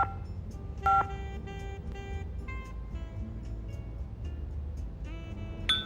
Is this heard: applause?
no